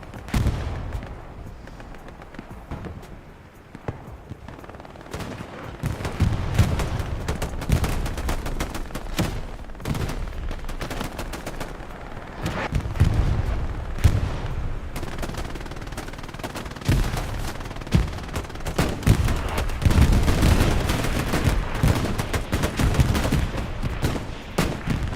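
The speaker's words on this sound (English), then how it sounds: "3 rocket shots coming down." Rocket shots and bursts of gunfire in Hell Let Loose, a World War II shooter, fill the scene with dense, repeated cracks and rattling volleys, some near and heavy, others distant, over a constant battlefield rumble.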